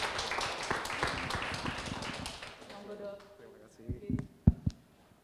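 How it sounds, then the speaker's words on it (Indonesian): An audience at a hospital community gathering on stoma care claps for a doctor called to the front. The brisk, close clapping fades out after about three seconds, leaving a few scattered taps and thuds. "tepuk tangan yang meriah"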